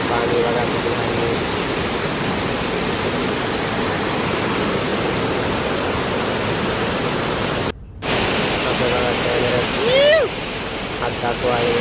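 A river waterfall roars as a steady, loud wash of broadband rushing water, with voices talking over it throughout.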